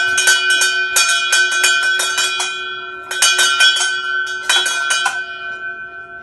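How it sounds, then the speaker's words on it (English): A hand bell rings out loud and close in three bursts of rapid clanging, each strike trailing a bright lingering tone after a finished course of treatment. "Ring this bell 3 times well."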